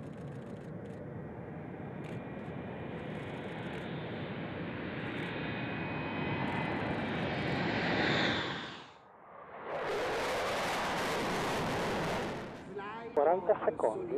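Aircraft at an airshow roar with a loud, sustained engine rumble that swells, breaks off, then returns as a harsh blast before cutting out.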